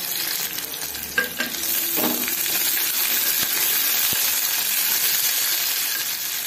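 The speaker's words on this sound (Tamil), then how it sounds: "கொஞ்சம் கருவேப்பிலை, ஒரு கைப்பிடி அளவுக்கு வெங்காயம், அதுக்கப்புறமா நாலஞ்சு பூண்டு பழம், இதெல்லாம் சேர்த்து வதக்கி எடுத்துடலாம்" Onion, curry leaves and a few garlic cloves sautéing in a pan, a steady close sizzle with occasional stirring scrapes and a sharp clink near the start, no one talking.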